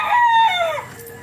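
A rooster crows loudly nearby, one drawn-out call that rises and then trails off.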